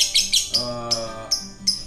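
A lovebird gives a series of sharp, high chirps in quick bursts, close and fairly loud, over a low steady hum.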